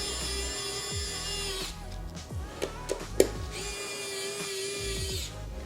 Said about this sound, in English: So for this one, we're going to need to use the actual screwdriver as well.